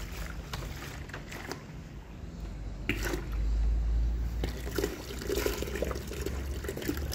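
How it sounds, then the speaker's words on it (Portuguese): Water delivered by a ram pump is poured from one bucket into another, making a continuous close splashing and trickling sound that swells to a fuller gush midway. "Vou colocar em outro balde."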